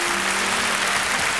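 A studio audience at a children's singing show applauds, a loud, sustained wash of clapping, with a faint low tone running beneath.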